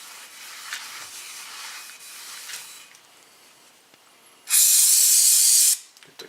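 Cleaner sprayed from a bottle onto a rag while working on the front brake rotors of a 2007 Honda Accord: one loud, steady hiss of about a second near the end, with faint rustling before it and no talk.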